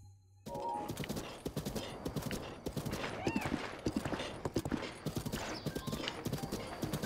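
Horse hooves galloping in The Legend of Zelda: Breath of the Wild, a fast, loud, even drumming of clip-clops over game ambience, with a short whinny partway through.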